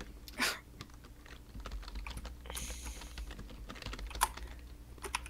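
Fingers tap a computer keyboard during a gaming session, a quiet run of irregular keystrokes with a few louder clacks, close and without talk.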